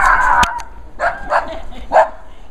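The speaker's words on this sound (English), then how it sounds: "Doggy." A dog gives a few short, sharp barks and yips close by, spaced apart with brief pauses between them.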